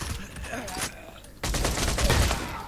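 Gunfire in a chaotic multiplayer video game, bursts of rapid shots crackling close, starting softer and then surging into a dense fusillade, with players' voices in the mix.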